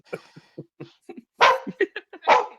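A pet dog gives a run of short yips and barks indoors, a couple of them louder and fuller, at close range with no talk over them.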